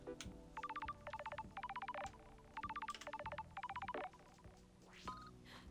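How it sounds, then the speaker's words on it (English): A synthetic electronic phone ringtone in the video game Paradise Killer trills in repeated bursts of rapid beeping, two groups in a row, then fades; no voices. "That's Killer ringtone"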